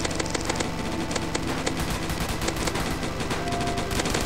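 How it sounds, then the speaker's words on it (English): Gunfire in the Roblox Zombie Attack shooting game, a dense, continuous barrage of rapid shots layered over constant game noise, loud and relentless throughout. "Shot to the head of the zombie."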